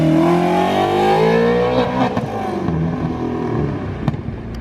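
A Toyota Supra engine revs hard and continuously while spinning donuts, a loud, close roar with rising and falling pitch and tire-scrubbing texture throughout.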